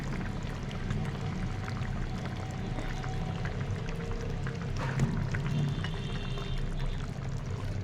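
Raw mustard oil is poured into a pot of Assamese boiled fish curry, giving a soft continuous liquid trickle over a steady kitchen background, fairly quiet and unbroken.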